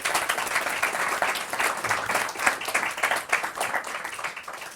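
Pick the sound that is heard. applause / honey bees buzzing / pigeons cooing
applause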